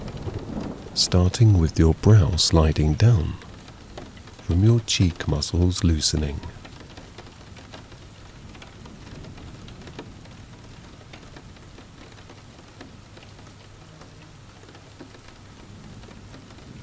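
Steady rain falling during a thunderstorm, a soft, even wash of noise heard under a calm speaking voice at first, then continuing alone and quietly for the remaining stretch.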